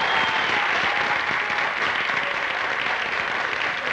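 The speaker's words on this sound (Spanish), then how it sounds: "Un aplauso, por favor," Steady audience applause fills a studio during a matchmaking event in Bogotá, dense and continuous throughout at an even, fairly loud level.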